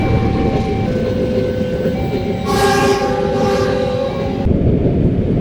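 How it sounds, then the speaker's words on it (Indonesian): A train rolls past near a busy road in Pekalongan, Java, its loud wheel rumble continuous throughout, with a horn sounding midway over the traffic noise. "ada kereta lewat"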